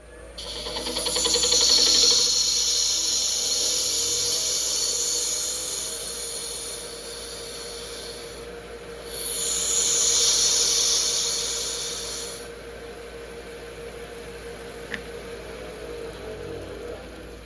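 A wood lathe spins a resin turning while a tool works near the top of the piece, giving a steady high-pitched whine and hiss that swells in two longer passes, alone with no talk.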